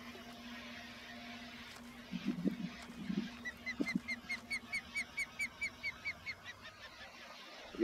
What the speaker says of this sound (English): Notice we're hearing that annoying bird you guys hear from Florida map.